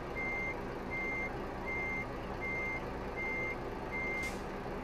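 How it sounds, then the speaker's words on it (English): An electronic backup beeper on a reversing truck in Euro Truck Simulator 2, six evenly spaced beeps over a steady engine and road rumble, clear and fairly loud, with no talking. "I like having the backup beeper."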